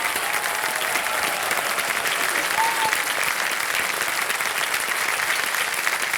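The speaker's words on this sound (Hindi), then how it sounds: "एक बार जोर से ताली बज जाए आपके लिए।" Steady, dense applause from a studio audience on the set of Kaun Banega Crorepati, a continuous broadband clapping wash holding at even loudness throughout, with faint voices underneath.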